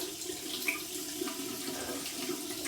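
Steady tap water runs into a sink in a bathroom during a wet shave, a constant close hiss of flowing water with no voices, left running while it warms up.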